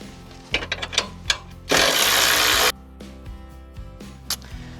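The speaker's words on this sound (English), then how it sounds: "let's take the bumper back off and get back to it." Ratchet wrench working bolts loose on the front bumper of a third-generation Toyota 4Runner, with a few light clicks, then a steady close buzzing run of about a second, then scattered softer clicks.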